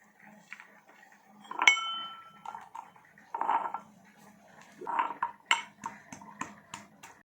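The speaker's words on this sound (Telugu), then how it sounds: "ఇక్కడ అల్లం ఎల్లిగడ్డ దంచుతున్నాం" Ginger and garlic being pounded by hand: irregular knocks and clinks of pestle against a hard mortar, some sharper and ringing, others dull, spaced unevenly over several seconds in a quiet room.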